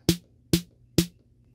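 Three evenly spaced snare hits from the percussive synth oscillator of a Teenage Engineering TX-6 field mixer, each a sharp noisy crack with a short tonal body, played alone.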